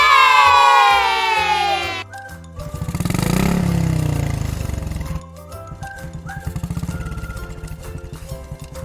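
A cartoon motorbike engine revs up and roars for a few seconds between bright music cues, then drops to a lighter puttering sound under the music.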